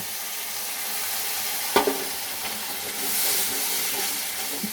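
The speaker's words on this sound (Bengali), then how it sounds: "এবার আমার তেল ছেড়ে এসছে, আমি এবার সামান্য একটু জল দেব।" A splash of water hitting hot oil in a pan while cooking Bengali fish curry, a sharp burst of hiss followed by continuous sizzling and steam, with a few utensil knocks and no talking.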